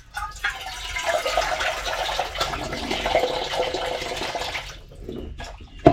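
Raw beef being rinsed under running water in a Kenyan home kitchen, a steady close splashing gush that runs for about five seconds, then cuts off into a brief quiet and a final knock.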